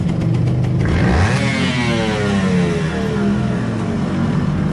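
A motorcycle engine being tuned at the carburetor pilot setting, with a reamed carburetor, revs up sharply once, then settles back into a steady, loud running rumble close by.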